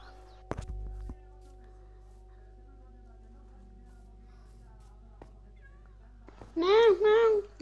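Cats meowing in the Minecraft video game: a loud pair of close meows near the end, after a sharp knock and long quiet stretches with faint background tones.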